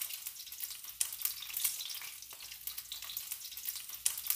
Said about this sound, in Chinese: 可以用隻锅铲一路推住，一路转住，咁就可以煎到金黄㗎啦